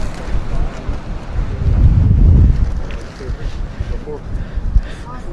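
Gusty outdoor wind buffeting the microphone during a litter pick in Prestwick, swelling to a loud rumbling peak mid-way then easing into uneven bursts, with people talking around it.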